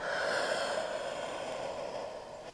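A long, steady exhaled breath during a yoga flow, a soft airy rush lasting a couple of seconds and fading gently at the end, close and alone without talk.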